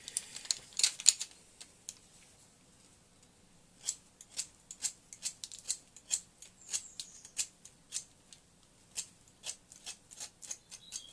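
A colored pencil is sharpened with a run of quiet, close, rhythmic scratchy strokes, each short and crisp, after a brief faint rustle; no voices.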